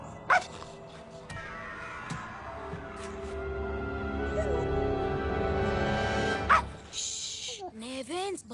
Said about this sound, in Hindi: भौंकना मत